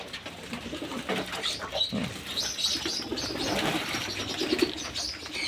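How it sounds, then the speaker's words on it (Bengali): Pigeons kept in a home loft coo softly at close range, with wing flaps and rustling, and no talking. "আর আর পায়রা দেখুন বন্ধুরা"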